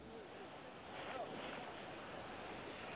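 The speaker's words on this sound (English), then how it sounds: "This is a record surge of water" Storm surge waves churn during Hurricane Sandy in a faint, continuous wash of surf mixed with wind, rising a little after the first second.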